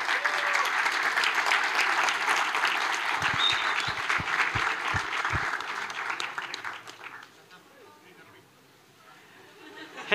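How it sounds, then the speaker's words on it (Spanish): An audience at a talk on COBOL breaks into dense, steady applause that holds for several seconds before fading out, followed by a quieter stretch of room sound. "un gran aplauso para Dino, que nos ha acompañado."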